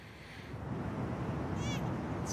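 An infant simulator doll lets out a shrill, cat-like cry rising over a murmur of background voices, with brief high squeaky bursts near the end.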